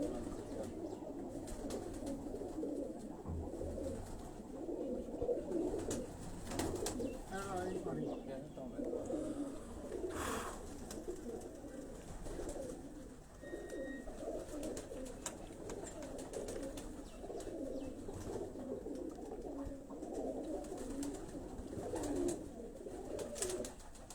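A loft of fine pigeons coos steadily, overlapping throaty calls forming a continuous murmuring bed at moderate, somewhat distant level, with a few brighter chirps over it.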